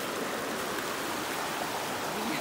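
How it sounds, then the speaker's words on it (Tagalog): River water flowing steadily in the Philippine countryside, a continuous broadband rush like a stream, heard close and even throughout with no clear talk. "Dito na po tayo ngayon sa ilog."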